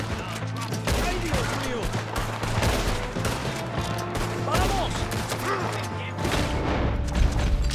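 Gunfire in Red Dead Redemption 2 as a busy shootout, with many overlapping shots and booms going off steadily at close range over a continuous game backdrop.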